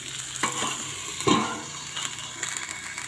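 Okra cooking in a covered pan gives a steady frying sizzle, broken by a few louder scraping stirs of a spatula, close and clear with no talking.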